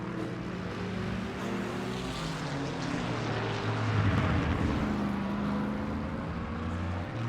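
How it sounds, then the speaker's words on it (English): An Aston Martin GT3 race car engine in a sim racing game at Barcelona holds a steady, droning roar with layered harmonics that swell slightly in the middle, with no talk. "But that Aston does sound good."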